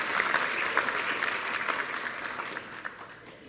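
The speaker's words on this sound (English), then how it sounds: "so let's give them a round of applause" An audience at a technology center awards ceremony gives a steady round of applause, many hands clapping at moderate volume and gradually fading.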